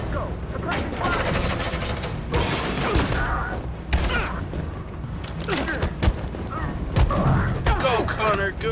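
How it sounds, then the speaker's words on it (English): Gunfire in Detroit: Become Human, bursts of shots and booms crackling through a chaotic firefight, with urgent shouting voices over the action throughout. "Let's go! Suppressing fire!"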